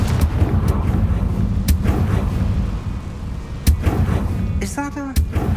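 A Confringo blasting spell fires in Hogwarts Legacy, giving several sharp, loud booms over dense rumbling game sound, with a brief voice near the end.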